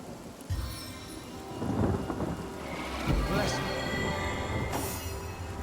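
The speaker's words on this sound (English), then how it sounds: "Let's have a little bit of rain in here." Rain hisses steadily and thunder rumbles and cracks in a storm inside the fantasy role-playing game Divinity: Original Sin Enhanced Edition. The rumbles grow louder and fade beneath the constant downpour.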